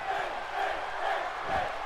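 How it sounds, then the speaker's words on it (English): Arena crowd cheering and rallying during a WWE 2K18 wrestling match at Battleground, a steady, dense roar of many voices with swelling surges, no clear talk over it. "you can hear the crowd rallying behind Finn Balor"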